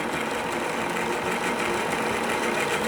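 A pulsing motor runs steadily with its assistance motor switched off, giving a close, even, rapid buzzing throb that holds at constant loudness with no talk over it.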